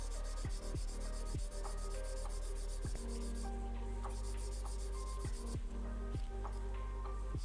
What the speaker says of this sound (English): I'm gonna like sand it down anyway. Like let's just do it right now on camera. So go with the low grit.